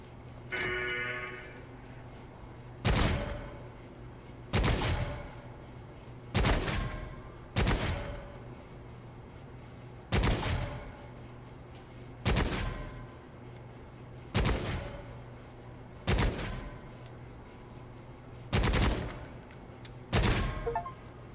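Single gunshots at a shooting range in Necromunda: Hired Gun, about ten sharp, evenly spaced reports roughly every two seconds, fairly close, each ringing briefly against a quiet backdrop.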